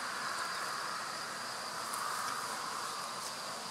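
Honeybees buzz around a Dadant hive while a colony is moved from a small nucleus box into a full Dadant hive, a dense, steady swarm drone that holds even and fairly loud throughout.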